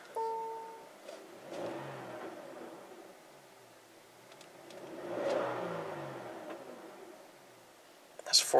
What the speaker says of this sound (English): Let me start the car here. Give it a couple revs.